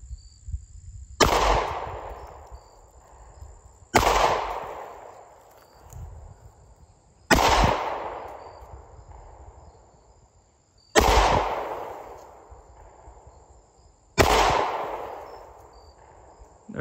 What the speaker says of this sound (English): let's go ahead and get out here and shoot some more.